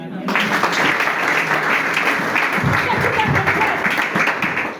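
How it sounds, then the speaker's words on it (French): A church congregation applauds and cheers for Jesus, a dense, steady wall of clapping and voices that holds at full loudness for nearly five seconds before tapering slightly. "Acclame Jésus"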